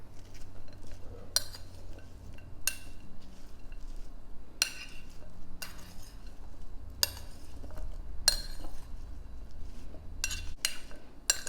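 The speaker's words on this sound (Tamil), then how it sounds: "இப்போ இதை நல்லா மிக்ஸ் பண்ணிடலாம்" A guava and star fruit street food salad is mixed in a bowl, with quiet, irregular clinks and taps of a utensil against the bowl spaced across the stretch over a soft background.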